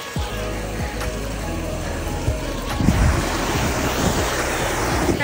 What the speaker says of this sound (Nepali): खोलामा पनि आइसक्यौँ